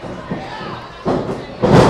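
A wrestler is slammed onto the ring mat by an exploder suplex at a live wrestling show, heard as a loud thud near the end over a cheering crowd and an excited commentator's voice.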